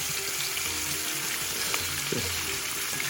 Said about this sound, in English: It's just natural sound of oil and frying fish.